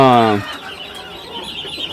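A native country chicken raised at home gives a loud, drawn-out call up close, followed by quieter farmyard clucking and faint background sounds.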